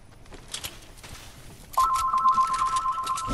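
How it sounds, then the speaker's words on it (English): A telephone ringing in a video game, a steady electronic ring tone that starts suddenly partway through and continues to the end over quiet background noise. "I hear a phone ringing."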